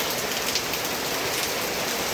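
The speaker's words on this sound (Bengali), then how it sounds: "এই কয়দিন যে এত বৃষ্টি হচ্ছে বলার মতন না" Steady, dense rain pouring down and drumming on surfaces, constant and fairly loud with no voices.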